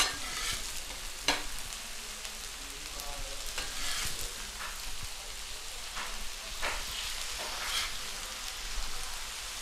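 Smashed burger patties and onions sizzle loudly and steadily on a hot griddle, with a few sharp scrape and flip clatters from a spatula rising above the constant hiss.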